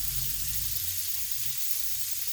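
Onions cooking down in a pan, a steady soft sizzle with fine crackling frying hiss throughout, close and continuous with no talking.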